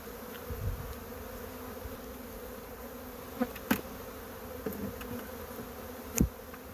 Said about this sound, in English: See all the bees in there.